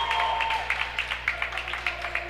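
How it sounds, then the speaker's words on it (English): Parents of the Seton LaSalle side cheer and clap at a high school volleyball match, a steady crowd roar with bursts of applause that rise and fall in short waves throughout. "you can maybe hear some cheering from the Seton LaSalle parents"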